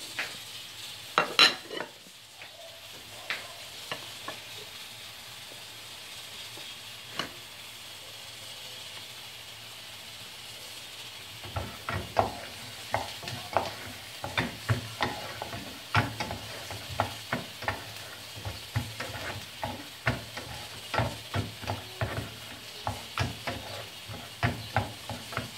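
Onion frying in a pan while being stirred, mango chutney in progress: steady sizzle under repeated scraping clicks of a utensil, sparse at first and then quick and busy for the last half, close and fairly quiet.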